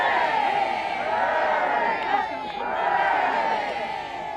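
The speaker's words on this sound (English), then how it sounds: "This clearly was a supportive crowd." A supportive crowd greets King Charles in Westminster after Queen Elizabeth II's death, a steady wash of distant cheering and shouting that holds through the moment with a slight dip midway.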